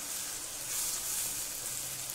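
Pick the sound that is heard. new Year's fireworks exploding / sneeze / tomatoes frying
tomatoes frying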